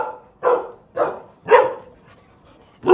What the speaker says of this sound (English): The barking is too much.